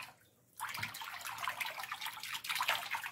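Water poured to rinse while mixing a hydroponic nutrient solution, beginning after a brief silence as a steady close splashing stream with small bubbling and dripping textures.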